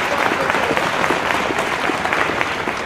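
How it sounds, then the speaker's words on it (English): An audience at a school spring concert claps steadily for the student band and orchestra, a dense, even wash of applause filling the hall without pause. "Let's give them a round of applause."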